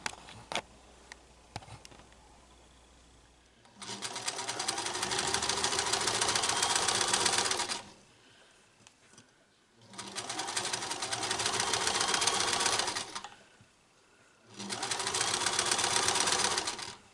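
A sewing machine stitches a tiny rolled hem in three steady bursts of rapid, even needle chatter, with quiet pauses in between.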